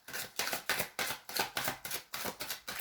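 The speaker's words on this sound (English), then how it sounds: "Shuffle the cards." Cards being shuffled in quick repeated bursts, a papery riffling rhythm of about ten strokes, close and fairly quiet with no talking.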